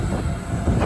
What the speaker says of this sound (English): Train going past camp.